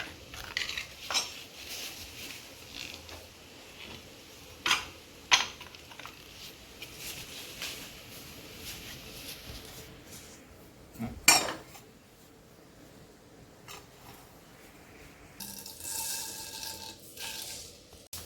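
Pots and utensils handled at the stove while a tempering for buttermilk curry is prepared: scattered close clinks and scrapes of metal cutlery and pans over a quiet background, ending in a brief spell of sizzling.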